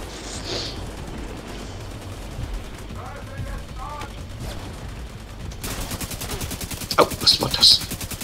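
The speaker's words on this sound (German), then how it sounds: "Zwei Schüsse und weg." Gunfire in the video game Tom Clancy's The Division 2, with scattered shots early on giving way to a rapid automatic burst near the end, under players' voices talking over the action.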